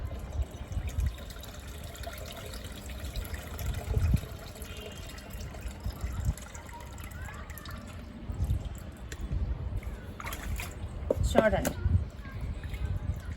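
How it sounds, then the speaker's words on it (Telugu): Tea powder is stirred into a container of about five litres of water to make rose fertilizer, producing intermittent splashes, drips and sloshing close by while someone talks over it. "టీ పొడి ఇప్పుడు దీన్ని మనం దీంట్లో కలిపేస్తాం"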